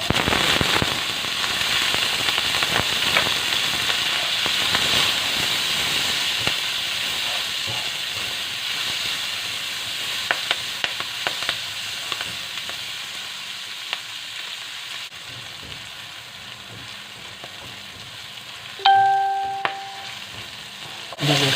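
Vegetables sauté in melted butter in a pan for salpicao, giving a steady broad sizzle throughout. Near the end, a brief tonal beep sounds and the frying continues underneath.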